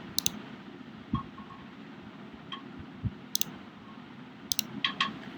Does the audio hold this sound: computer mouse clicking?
yes